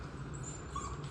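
A dog in a crate gives a soft, steady whimper throughout, faint and close, over a low background hum with no talk.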